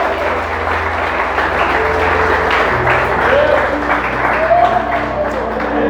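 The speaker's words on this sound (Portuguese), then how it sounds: "só aplauda se tiver duas mãos" A church congregation applauds throughout in a dense, sustained wash of clapping, while voices and a brief tonal sound rise over the crowd.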